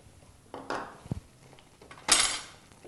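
A spoon scraping and clinking against a metal pot as grated coconut powder is stirred into a bottle gourd curry, with a few close knocks and a brighter scrape near the end.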